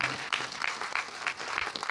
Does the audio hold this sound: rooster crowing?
no